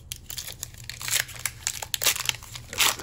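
Pokemon Chilling Reign booster pack foil being torn open, close crinkling and ripping bursts in quick succession, loud and alone.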